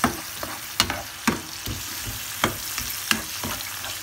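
Food frying in a pot under a constant sizzle, punctuated by sharp, regular knocks and scrapes of a utensil stirring roughly every half second, close and fairly loud, with no talking.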